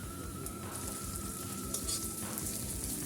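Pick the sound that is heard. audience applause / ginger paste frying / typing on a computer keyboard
ginger paste frying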